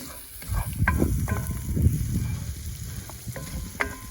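A spoon stirs a sticky honey mustard mix in a bowl, giving several quick wet scraping and clicking strokes, close and fairly loud, with sizzling from a pan in the background.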